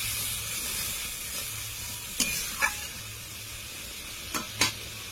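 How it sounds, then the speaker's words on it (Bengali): Spices with salt and turmeric powder sautéing in a pan for a katla fish curry with potatoes: a steady close sizzle and hiss, broken by a few sharp scraping or spattering bursts as the mixture is stirred. "ভালো করে কষে নেব।"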